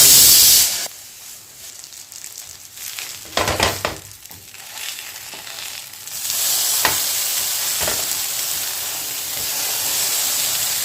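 Dahi toast fries on both sides in a pan over low gas, giving a steady close sizzle and hiss with a few stirring scrapes and clicks midway, no talking.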